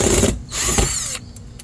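Power screwdriver backing Phillips screws out of a 2015-2024 Nissan Murano front fender, two close bursts of whirring drive with ratcheting clicks, then a brief quieter tail.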